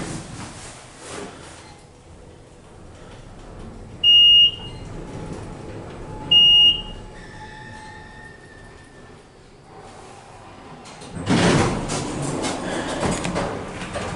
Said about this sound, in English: Here goes the door.